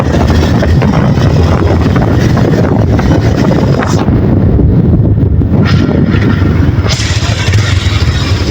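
Strong wind blows hard across the microphone, a constant loud roar of buffeting with a few brief dips in intensity and no talk.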